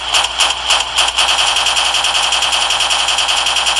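Rapid automatic gunfire from a simulated siege and hostage operation, a dense continuous rattle of fast bursts, loud and close, with an alarm-like tone running through it and no voices.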